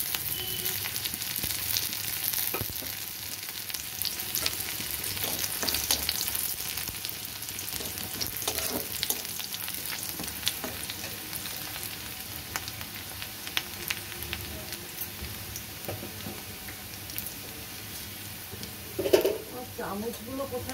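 Chopped ginger sizzling in oil left over from frying chicken, a constant dense hiss with scattered spoon clinks, close up while a person talks over it.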